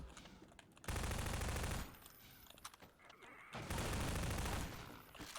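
Rapid automatic gunfire in the video game Half-Life 2 comes in two dense loud bursts, separated by a quieter stretch of scattered in-game noise.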